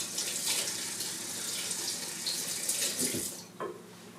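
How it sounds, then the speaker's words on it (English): Tap water runs steadily into a kitchen sink while four roma tomatoes are washed, a close, continuous hiss broken by a few splashes as the fruit is handled under the stream. "I'm going to wash up these 4 romas and cut them in half."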